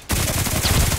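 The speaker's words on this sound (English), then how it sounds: "that was the Glock 18" A short, loud burst of rapid Glock 18 gunfire in the game Contract Wars starts abruptly and continues for the whole second.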